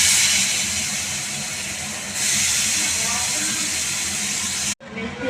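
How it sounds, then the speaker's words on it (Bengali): Potatoes dropped into hot oil in a home kitchen sizzle with a loud, steady broadband hiss that swells after a couple of seconds, then briefly cuts out before resuming. "এবার আলুটা দেবো, গরম হয়ে গেছে ওই তেলে।"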